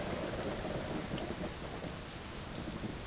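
A thunderstorm with rain in the video game My Summer Car: dense, steady downpour hiss over a deep rolling thunder rumble, filling the whole stretch evenly with no talking.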